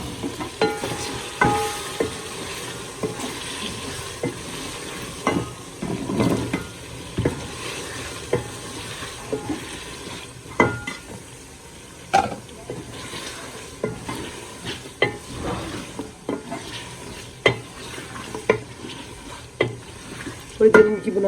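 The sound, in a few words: sautéing meat in a pot for palak gosht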